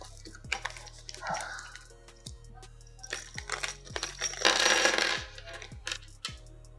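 Silver M4x20 screws for a Creality CR-10 Max 3D printer base clinking and rattling as they are handled, with small metallic taps and crinkly packaging rustles, close by, and a person talking quietly at times.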